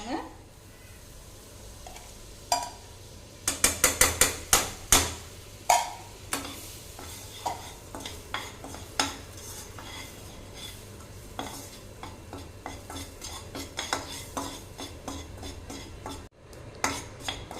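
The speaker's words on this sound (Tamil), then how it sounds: "இந்த மைதாவோட பச்சை வாசம் போகிற அளவுக்கு நல்லா வதக்கி எடுத்துக்கலாங்க" Maida flour being stirred in melted butter in a pan for white pasta, loud clinking scrapes of a metal spoon against the pan in quick bursts over a faint low sizzle.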